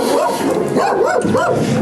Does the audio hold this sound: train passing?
no